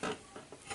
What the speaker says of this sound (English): Take your spoon, stir it around.